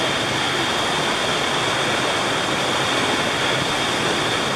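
A mountain creek in the Great Smoky Mountains near Elkmont rushes steadily, a loud, close, continuous hiss of flowing water with no pauses.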